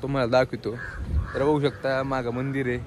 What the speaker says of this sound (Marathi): इकडं खूप कावळे ओरडतात येते